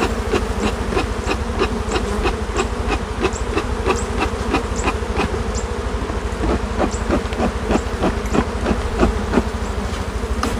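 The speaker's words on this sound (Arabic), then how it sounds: "شوفوا هنا مملكه النحل وجمالها في وسط الزراعه" Honey bees around a beehive in a farm field make a dense, continuous buzz, with close individual bees pulsing in and out of a steady drone.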